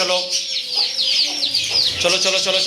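A chicken clucks repeatedly at close range, a run of short squawking calls with a voice faintly underneath.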